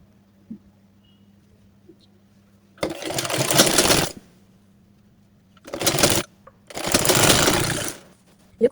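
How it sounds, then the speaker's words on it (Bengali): Sewing machine stitching a narrow folded edge on a salwar, running in three distinct bursts of steady mechanical whirring: a longer run, a short one, then another long run, separated by quiet pauses with a low background hum. "এখন এই সাইডটাকে এরকম চিকন করে ভাঁজ করে সেলাই করে নিব।"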